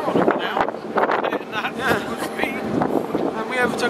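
Narrowboat engine pushed to maximum speed, around 2,000 revs, on the tidal Thames near Teddington, droning steadily beneath wind buffeting and water rush while people talk over it.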